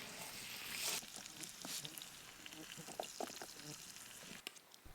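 Walleye and pike fillets sear in a hot pan on a wilderness camping trip, a loud, steady sizzle and crackle with scattered spatters as the pieces are flipped.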